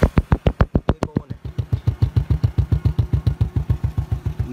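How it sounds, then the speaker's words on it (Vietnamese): A Honda Dream motorcycle engine with a Nibbi Racing carburetor idles close by with a steady, rapid chugging putter that settles into an even rhythm after a few rough firings. "Máy vẫn nổ nha anh em."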